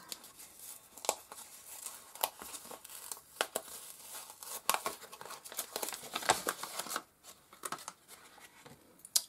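Small paper envelopes from an advent calendar being opened by hand, with close, quiet crinkling, rustling and tearing in irregular bursts, and no speech.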